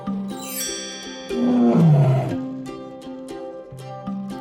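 A tiger roaring once, loud and close, rising and then falling away, over steady background music.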